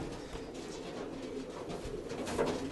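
A pet pigeon coos in low, soft, repeated throaty calls, close by and steady against a faint background hum, with no talking.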